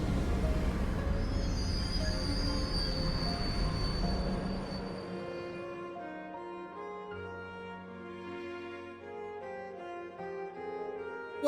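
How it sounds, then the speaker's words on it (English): A train pulls in during a scene from the video game Trails of Cold Steel IV: a loud, dense rumble with a high squeal that fades after a few seconds, then gives way to a quieter, sustained tonal hum. "Wait, the train, it's red."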